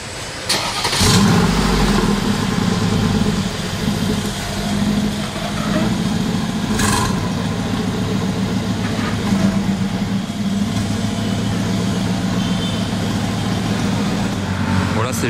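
A Mercedes-AMG 45 with its exhaust valves closed, started by a dealership valet and then idling, a steady low engine rumble running the whole time under nearby chatter, with a start-up surge near the beginning.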